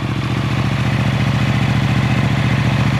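A wrecked motorcycle with 6,711 miles idles steadily right after starting, its engine thumping in an even, rapid, loud rhythm close by, with no talking.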